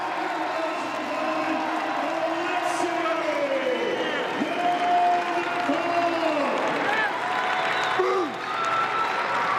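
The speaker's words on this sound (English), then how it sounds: "the crowd acknowledging Oleksii Novikov. To see him getting a huge cheer." A large crowd at the 2022 Arnold Strongman Classic squat event applauds and cheers a strongman, a steady wash of clapping and whoops heard beneath a commentator's voice throughout.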